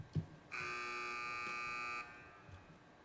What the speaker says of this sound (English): Teams wait for the buzzer.